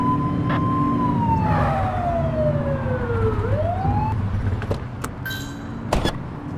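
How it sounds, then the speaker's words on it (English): Police car siren in The Precinct, a video game, giving a single falling wail that dips and rises back, then short sharp blips with engine rumble underneath, close and loud. "Get behind them and blip the siren and make them pull over."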